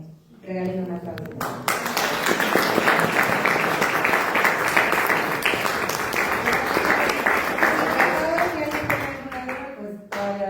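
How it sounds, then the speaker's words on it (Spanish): After an interview with a cone player from the State of Mexico, the audience breaks into lively applause that lasts about eight seconds. Someone speaks before it begins and again as it fades. "Regalen una aplauso."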